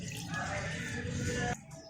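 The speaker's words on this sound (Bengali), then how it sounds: "দিয়ে দিব অল্প একটু পানি" A small amount of water poured into a cooking dish, a steady splashing pour that runs for about a second and a half, then stops abruptly.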